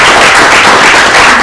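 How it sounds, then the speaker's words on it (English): A room full of audience members applauds panelists at a product-team meetup, a dense, loud, continuous wash of clapping with no voices over it. "Let's have a round of applause for these amazing panelists"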